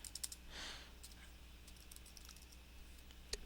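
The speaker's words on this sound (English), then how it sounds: "then you're going to type in jcodes-freebuild-server" Keystrokes on a computer keyboard as a server name is typed in, a quiet, uneven scatter of light clicks with a faint background hiss and one sharper tap near the end.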